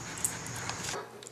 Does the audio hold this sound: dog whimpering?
yes